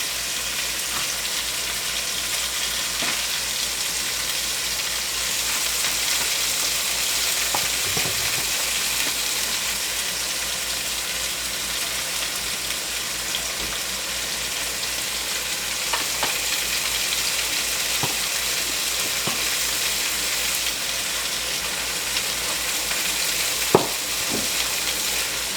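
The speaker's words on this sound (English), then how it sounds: "So we're just going to cook this on a few minutes on each side. We want to get a nice good sear" Chicken for Tuscan chicken pasta sears in a hot pan with a steady, even sizzle, and there are occasional soft clinks and taps of utensils throughout.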